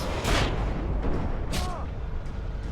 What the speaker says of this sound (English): Drop a flashbang, please.